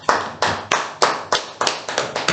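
An audience at a Toastmasters meeting claps in a sparse, uneven rhythm, about eight distinct bursts of hand claps at close range, each sharp and quickly decaying.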